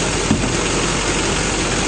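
Steady idle from a 2007 Chevrolet Silverado 2500 with a 6.6L diesel engine, heard close with the hood open, a smooth continuous low rumble without a break.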